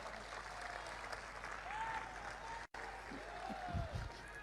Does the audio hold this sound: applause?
yes